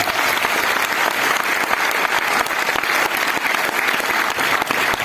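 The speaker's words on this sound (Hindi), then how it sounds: "तालियां होनी चाहिए करण भाई" An audience at a success training event claps loudly and continuously, a thick steady wash of applause with no break.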